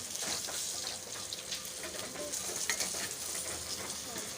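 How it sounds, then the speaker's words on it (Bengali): Pieces of fish frying in hot oil in a home kitchen pan, a dense continuous sizzle heard up close, with faint crackles scattered through it and no voices. "আমার মাছ ভাজা হয়ে গেছে"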